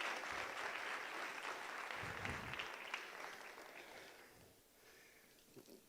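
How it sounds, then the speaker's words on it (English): An audience at an anti-corruption summit conference applauds after a presentation: sustained clapping from a large room that gradually thins and fades toward the end. "please, a big round of applause"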